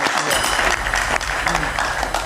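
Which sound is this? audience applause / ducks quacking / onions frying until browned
audience applause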